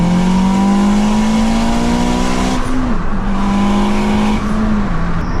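A loud turbocharged 500 bhp Honda Civic FN2 revs and accelerates with a rising, strained tone, dipping briefly at gear changes before pulling hard again.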